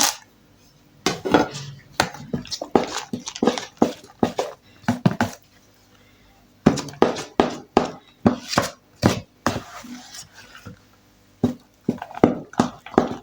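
A utensil scrapes and knocks against a bowl while brownie batter with chocolate chips is stirred, making rhythmic clinks and thuds in bursts with a short pause midway.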